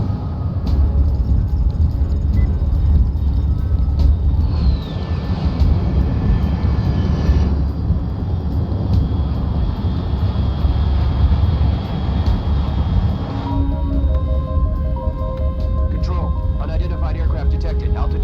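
A propeller airplane flying in the Metal Gear Solid Delta: Snake Eater video game, a loud constant engine drone filling the scene, heard under radio-style voices talking.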